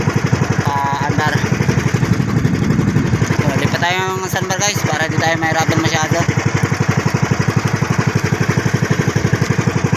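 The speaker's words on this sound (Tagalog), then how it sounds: "Medyo nagkakaroon ng aberya sa makina natin guys" Struggling boat engine running loudly near a sandbar, its steady rapid chugging carrying on throughout while someone talks over it.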